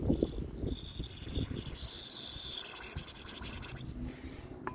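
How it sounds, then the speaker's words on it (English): A thin small brush scrubs inside the emulsion tube of a Honda GCV 160 lawn mower carburetor, giving close, fine scratchy brushing with some wet dripping, steady and fairly faint with no talk. "I need this thinner brush. We'll go right in that emulsion tube."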